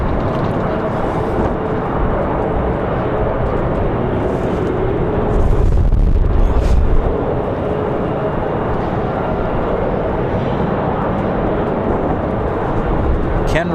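A Republic Airways airliner comes in to land in strong, gusty wind at Raleigh-Durham airport, its engines giving a steady broad roar that builds briefly midway, with wind buffeting throughout.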